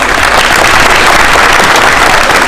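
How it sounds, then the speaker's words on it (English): Audience applause at a youth football awards event for 8U and JV teams, a dense steady clapping that holds loud and even for the whole stretch with no voices on top. "So give yourselves a round of applause."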